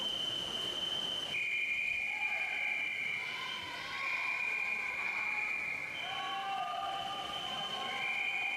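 A starting whistle at a swimming championship sounds in long, steady blasts, loud and shrill against the pool hall's background crowd noise and commentary.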